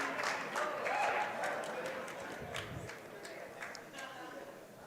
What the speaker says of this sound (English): that's met with a round of applause here from the folks who have turned out